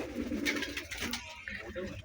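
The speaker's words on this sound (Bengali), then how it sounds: "পায়রাগুলো দেখুন বন্ধুরা" Pigeons, including frill-headed and white males, coo softly inside a home loft, a brief low burbling close by with a voice faintly present.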